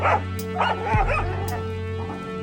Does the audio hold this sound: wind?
no